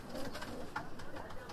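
Soft, low cooing from a racing pigeon of Alfonso Kras lineage, a murmured rolling call repeating through the moment over faint room noise, fairly close.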